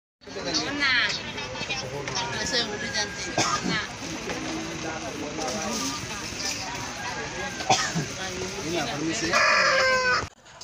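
Chickens and other farm animals cluck and call at a ritual chicken-hanging ceremony during a traditional bean harvest festival in Lewohala, Ile Ape, Lembata, with steady crowd noise and voices throughout.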